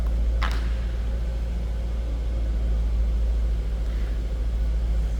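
A 1997 Jaguar XK8 convertible's engine running steadily at idle, heard from behind the car as a constant low rumble with no talk.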